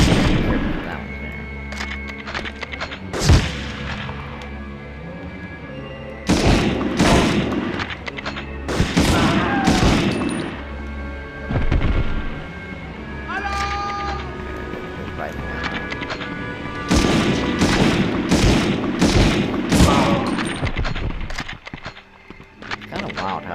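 Gunfire in the PS1 video game Medal of Honor: bursts and single loud shots come in several clusters, mixed with game voices and other in-game effects.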